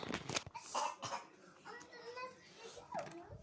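A child coughs a few times near the start, followed by other children's chatter and voices.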